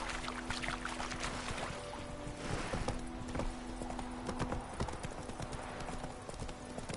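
Horse hooves clip-clop at a steady trot in The Witcher video game, a continuous rhythmic clatter over a dense backdrop of ambient game sound, with no speech.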